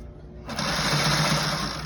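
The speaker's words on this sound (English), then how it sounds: "I'm just sewing right exactly where I sewed the piping to begin with." A sewing machine runs steadily stitching piping on a hinged boat cockpit cushion, starting abruptly after a brief quiet moment and continuing as an even, close mechanical whir.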